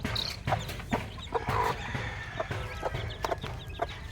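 Chickens cluck in short, repeated bursts, fairly close, with soft rustling and background farmyard noise between the calls.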